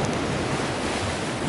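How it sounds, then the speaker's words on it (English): Ocean waves splash and wash over a small sand bar, a continuous broadband rush of surf close to the microphone with steady loudness and no voices. "there's water splashing"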